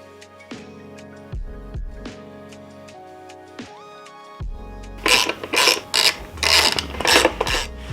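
Bracket bolts being fastened on a Honda CRF300L fender eliminator, with sharp metallic clicks and taps, then a burst of rapid ratcheting strokes, close and alone.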